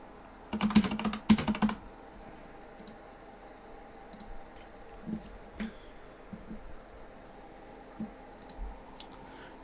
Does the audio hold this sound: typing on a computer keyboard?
yes